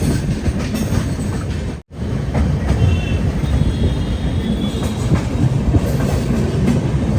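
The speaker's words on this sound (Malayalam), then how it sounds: "റായ്പൂർ ജംഗ്ഷൻ റെയിൽവേ സ്റ്റേഷനിലേക്ക് ഇതാ നമ്മുടെ ട്രെയിൻ എത്തിക്കൊണ്ടിരിക്കുകയാണ്." A train arriving at Raipur Junction railway station rumbles steadily past at close range, wheels clattering on the rails, with a brief faint squeal; no voices.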